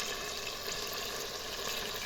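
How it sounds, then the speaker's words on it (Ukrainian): Chicken meat fries in a multicooker with a dense, steady hiss of sizzling heard close and alone for a couple of seconds. "смажу зараз в мультиварці, як бачите, Е, м'яско куряче, це курка."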